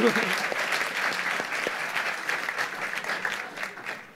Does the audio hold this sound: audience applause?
yes